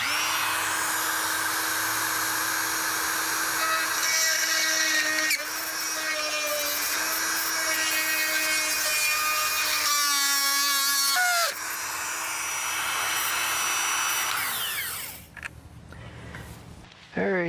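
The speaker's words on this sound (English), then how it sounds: "need to get the Dremel tool" A Dremel rotary tool whines steadily for about fifteen seconds while installing a Trailer Vision SB50 flush mount trailer connector, its pitch dipping and rising as the load changes before it winds down and stops.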